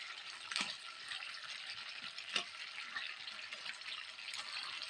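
Fried chicken leg lollipops sizzle steadily in a pan as they are stirred, a faint continuous crackle with occasional soft scrapes. No one speaks.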